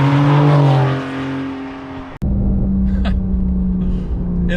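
A 2020 Porsche 911 Carrera 4S (992) engine pulls hard under acceleration with a steady, loud rumbling drone that shifts pitch midway, close and continuous with no talk.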